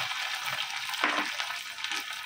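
Garlic sizzles in hot oil for dal tadka, making a loud, continuous crackling hiss with one brighter burst of spitting near the middle.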